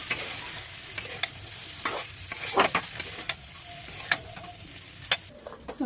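Potatoes being sautéed in a pan for a soybean curry, a continuous sizzle broken by repeated scraping strokes and clicks of a spatula stirring close by, no talking.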